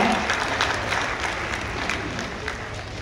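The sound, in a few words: loud applause at award ceremony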